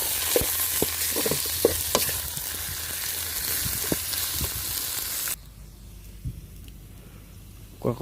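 Soft-shell turtle curry ingredients sizzle and get stirred in a hot pan, with scraping stirs over a loud fry that cuts abruptly quieter halfway through, leaving a faint simmer with an occasional clink.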